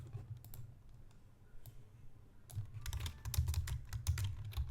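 Computer keyboard typing while writing HTML table code: bursts of quick, close clicking keystrokes, sparse at first then faster and denser, with no one speaking.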